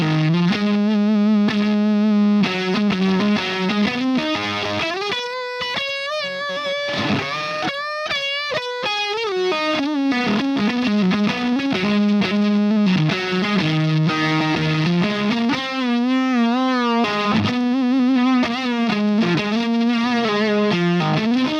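An electric guitar is played through an Axis fuzz pedal built with European PNP and NPN low-noise silicon transistors, giving thick, distorted sustained notes and bends in a continuous melodic phrase with no talking.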